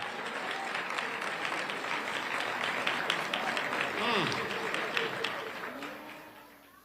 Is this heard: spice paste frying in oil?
no